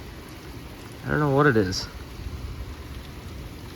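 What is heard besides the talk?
heavy rain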